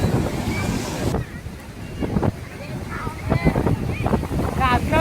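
Sea waves wash onto the beach at Ganpatipule in Konkan, a steady surf wash mixed with wind gusting across the microphone, while people chat nearby.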